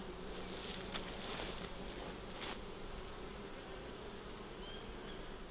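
Honey bees buzz in a dense, steady hum close by, many wings droning together at low volume with no voices.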